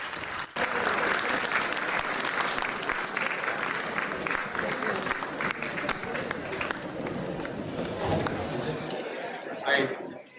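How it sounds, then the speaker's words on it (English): A lecture-hall audience gives a standing ovation, with a loud sustained round of applause and some crowd chatter that fades out near the end. "give him a standing ovation with a huge round of applause"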